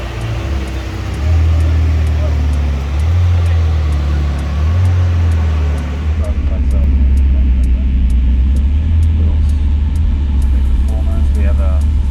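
A yellow Ferrari F8 Spider carries a loud, sustained low engine rumble with a steady drone throughout, its tone shifting slightly midway as the car moves on, heard from close range.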